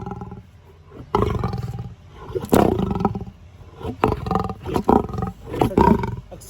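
A lion roars in a series of deep, grunting bursts that rise and fall close by, with short pauses between the throaty calls and no talk over them.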